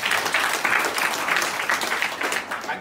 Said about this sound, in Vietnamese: Cho bạn một tràng vỗ tay đừng lớn đi